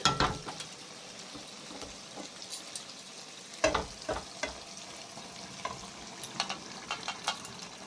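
Peas hit hot rendered chicken fat in a pan and fry with a soft, steady sizzle, broken by sharp clinks and scrapes as they are stirred.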